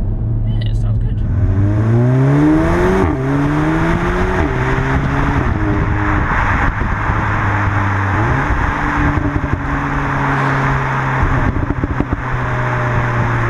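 A 2020 Cupra Ateca's 2-litre engine revs up through repeated climbs and shifts, heard loud and close from inside the cabin, rising and dropping in pitch several times while people talk over it.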